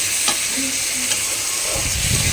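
Spiced food for a home dinner sizzles and fries in a pan while being stirred, a continuous loud hiss broken by scraping stir strokes, close up and with no voices.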